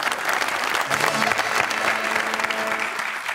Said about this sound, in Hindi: तो मैं चाहूंगा कि मैं और आप इनके साथ मिलके तालियां बजाएं